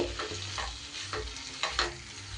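Paneer curry fries in a covered pan over medium-low heat, giving a steady sizzle. Rhythmic spoon-stirring scrapes break through it in four or five distinct bursts.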